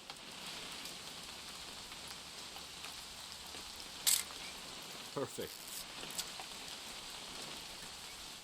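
Steady rain falls in the game What Remains of Edith Finch, a constant hiss under brief talk, with a few short knocks and rustles over the wash.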